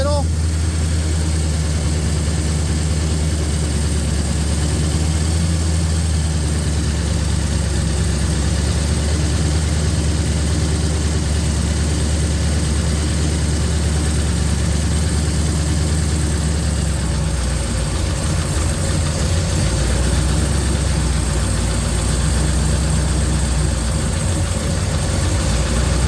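A supercharged 1955 Chevy engine idles with a deep, steady rumble and a faint blower whine, loud and close for the whole stretch, with someone talking over it.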